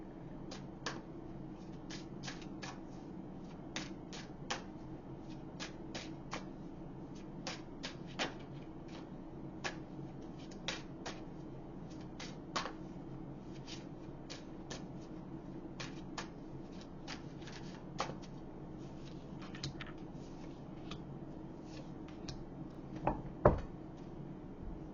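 Tarot cards shuffled during a reading, giving a steady run of quick, crisp riffling clicks and soft slaps close by over a low room hum, with a slightly louder cluster of snaps near the end.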